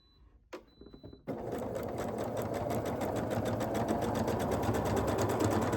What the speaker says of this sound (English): I'm going to flip it over and sew it from this side.